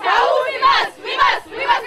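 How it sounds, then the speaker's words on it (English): A high school softball team chants a pre-game home cheer in unison, loud and close, with rhythmic repeated phrases from a group of voices. "Before the game, on home games, we have our big cheer things."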